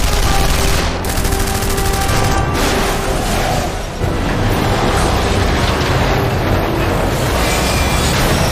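Heavy, relentless gunfire in the PS3 shooter Killzone 3, a loud wall of rapid automatic bursts and blasts that continues without letup and drowns out everything else.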